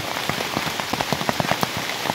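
Rain falls steadily on leaves and ground during mushroom foraging in a Thai forest, a close, dense patter with scattered louder drops striking nearby surfaces throughout.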